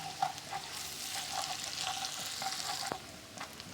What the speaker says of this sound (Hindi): अब मैं इसके अंदर लहसुन अदरक का पेस्ट डालूंगी और इसको अच्छी तरह मिक्स कर लूँगी